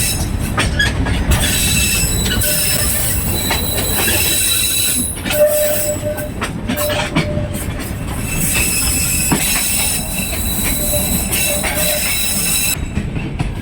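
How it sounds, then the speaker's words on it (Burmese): A train runs on a century-old railway in Shan State, Myanmar, its wheels squealing in sustained high-pitched screeches over loud continuous rumble and rattling clatter, close by and without talk. "ဟိုရထားလာနေတက်လာအောင်"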